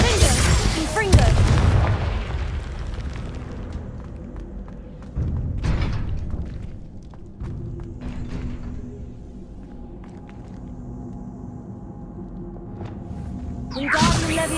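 Confringo fire-spell blasts in Hogwarts Legacy: a loud booming burst opens, another heavy blast lands near the middle, and a third erupts at the end, with whooshing game effects and rumble between.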